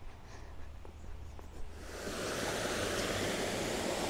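Wide river flowing near an old footbridge in Cork, Ireland: a low rushing wash that swells from soft to a steady, fuller roar of moving water partway through, with no speech.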